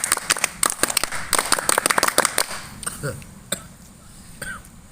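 A group performs a scout-style rhythmic clap, tepuk pramuka, with quick patterned bursts of claps over the first two and a half seconds, followed by a few scattered claps, murmurs and a voice.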